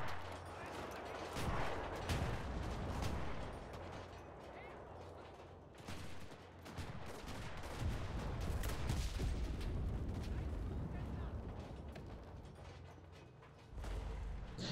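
Dense gunfire from a Pacific War battle in a video game, with sustained bursts and distant volleys rolling over a noisy battlefield. Someone talks over the shooting at times.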